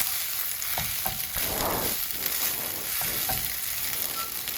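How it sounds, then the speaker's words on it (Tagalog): Garlic rice sizzling in hot oil in a pan while a utensil stirs and breaks it up, steady frying crackle with intermittent scraping strokes, close and alone. "Haluin lang ng haluin yung kanin hanggang sa madurog siya."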